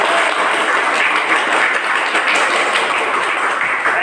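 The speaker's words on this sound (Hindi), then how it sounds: "ताली और ताली होनी चाहिए" Dense, steady applause from a large audience at a direct-selling training event, a continuous wash of many hands clapping at full volume for the whole stretch, with no voices standing out.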